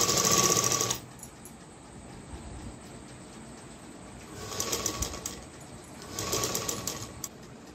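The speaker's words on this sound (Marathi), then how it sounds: "तर आता मी फास्ट दाब शिलाई मारून घेते." A sewing machine running fast, stitching a folded cross strip for a blouse, in a loud opening burst followed by a quieter stretch and then two more bursts of rapid, steady whirring, with no talking.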